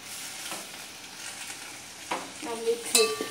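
Okra curry stirred in a pan, with a quiet sizzle and a few scraping, clinking strokes of a spoon against the metal, close up and without talk.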